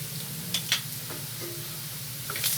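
Garlic paste hitting a hot tawa with keema makes a soft, steady sizzle, broken by a few brief stirring scrapes and clinks; quiet, with no talking.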